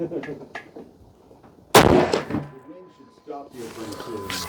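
A single sharp 22 Creedmoor rifle shot cracks loudly at a shooting range, with a brief echoing tail, while people talk quietly before and after.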